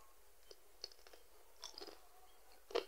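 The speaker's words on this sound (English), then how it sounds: "I just fry my plantain so that I will see how crunchy it is" Someone chews crunchy fried plantain close to the mic, with scattered crisp bites and crunches, the loudest near the end, and no talking.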